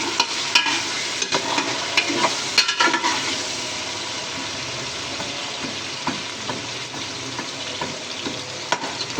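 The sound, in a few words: stirring ginger garlic paste frying in a pan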